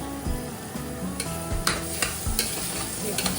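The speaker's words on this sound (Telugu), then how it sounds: "దీన్ని మనం కొంచెం లైట్గా ఒకసారి మిక్స్ చేసుకొని బాగా కలిపేసి ఒక 5 to 10 minutes ఇది ఫ్రై అయితే సరిపోతుంది" Vegetables and soya chunks stirred and frying in oil in a pan, a steady close sizzle with repeated scraping clinks of a spoon against the pan.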